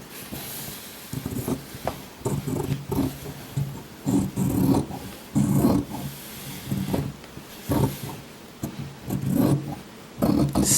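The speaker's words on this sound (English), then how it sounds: "turn it over, and keep cutting" Scissors cutting a shirt garment into long fabric strips, heard as a steady series of close, crisp snips and rustling cloth repeating in uneven bursts with no talking.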